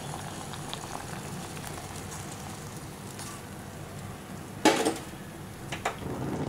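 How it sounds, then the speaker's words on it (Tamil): Barley water boils in a pot on the stove, a constant close bubbling and simmering with a few brief louder pops and splutters over the steady seethe. "நல்லா கொதிச்சிருச்சு."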